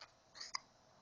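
A baby hiccups once, a soft short catch followed by a sharper little click, faint and alone in a quiet room.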